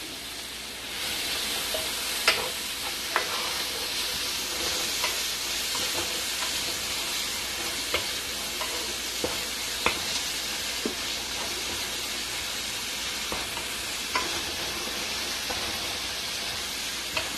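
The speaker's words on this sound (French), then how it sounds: "Et je remue le tout." Okra sauce with red palm oil sizzling in a pot while being stirred, a constant loud hiss with scattered clicks and scrapes of the spoon, continuing for a long stretch.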